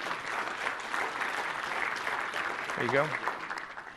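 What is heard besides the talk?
audience applause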